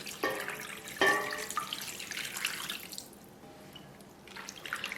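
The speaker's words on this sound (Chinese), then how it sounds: "抓一抓，清洗2到3遍。" Strips of chicken breast rinsed by hand in a basin of clean water, close splashing and sloshing with bright watery clinks in the first half, fading to quieter drips and trickles before more splashes at the end.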